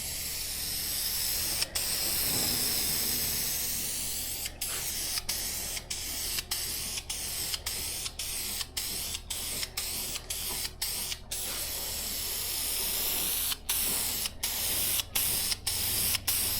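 Continuous close hiss of a spray gun laying down automotive high-build primer, broken by a series of quick regular cutoffs as the trigger is released between passes, alone without talk.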